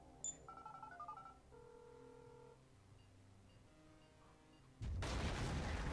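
A phone dials in the video game GTA V, a short run of close electronic tones near the start, then quieter game ambience, ending in a sudden loud burst of noise like gunfire.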